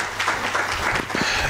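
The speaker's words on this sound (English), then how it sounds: "Thank you, colleagues. Round of applause." Conference audience applauding, a steady broadband wash of clapping that holds evenly loud through the whole short stretch.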